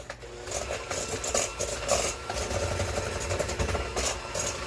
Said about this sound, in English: at least I had my mixer out